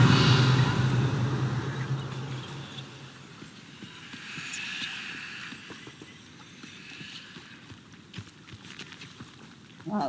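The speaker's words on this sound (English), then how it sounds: "those sound like spiders" Spiders scuttling in Hogwarts Legacy make a rapid, irregular skittering of many tiny clicks and taps over a low rumbling background, moderately loud at first and then fainter.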